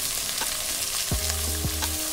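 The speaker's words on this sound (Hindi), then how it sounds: "ये सारे चीज़ों को अच्छे से मिक्स कर लेंगे।" Mixed vegetables with capsicum and finely chopped cabbage stir-fried in a pan for street-style veg Schezwan fried rice, giving a steady close sizzle with a few scraping stirs and clanks of the spatula against the pan.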